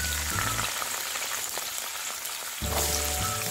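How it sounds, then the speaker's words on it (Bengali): Carrots and beans frying in a pan over medium flame, a crackling, rain-like sizzle heard alone, with a low hum at the start and end. "এবার মিডিয়াম ফ্লেমে এগুলোকে হালকা করে ফ্রাই করে নিচ্ছি।"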